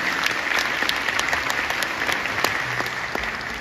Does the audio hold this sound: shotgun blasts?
no